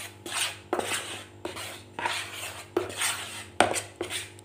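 Wheat flour and tapioca flour are stirred together in a bowl, making repeated scraping, rasping strokes in an uneven rhythm, close and fairly loud with no talk.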